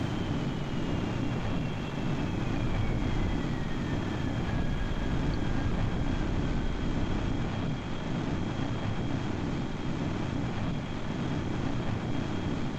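A jet afterburner in the video game Kerbal Space Program, heard as a steady broadband roar with a faint descending whine, constant and even throughout, with no talking.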